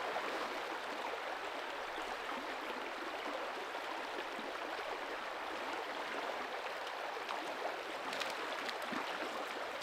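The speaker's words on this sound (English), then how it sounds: "Right behind me, there's a deep pocket of moving water" Moving stream water rushes and gurgles in a steady broadband wash at a camping spot, heard close and continuous throughout with no voices.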